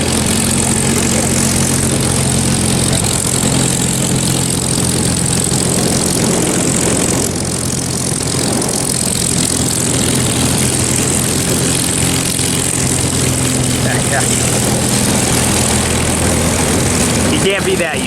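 P-51 Mustang piston propeller plane taxiing in after a flight, a loud steady droning engine rumble with a constant low throb throughout, heard outdoors at an airfield.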